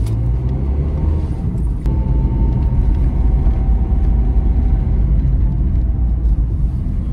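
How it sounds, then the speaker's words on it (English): A Ford Aspire's engine labours steadily as the car accelerates uphill in second and third gear on a steep hill road, a loud continuous low rumble that holds throughout with no voices. "I'm stepping on the accelerator on the second and third gear"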